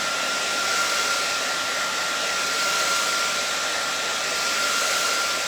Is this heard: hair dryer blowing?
yes